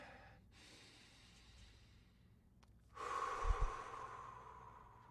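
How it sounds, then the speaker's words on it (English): Two slow, deep breaths during a calm mindfulness session, each a long airy inhale followed by a fuller, louder exhale, close and alone with no talking. "Taking in a nice, deep, cleansing breath and letting it out"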